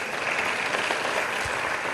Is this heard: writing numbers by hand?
no